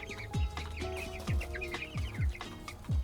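Chickens cluck steadily inside a simple A-frame coop on a small homestead, with repeated low thumping pulses and busy overlapping clucks at close range, no talking.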